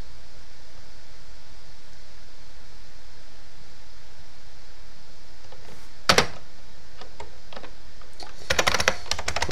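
A password is typed on a computer keyboard during a system restore: a few scattered, faint key clicks, then a short burst of sharper taps, and a quick cluster of keystrokes near the end over a low steady hiss.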